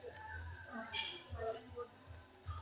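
Typing on a computer keyboard, a quiet scatter of irregular key clicks close by while a voice talks over it.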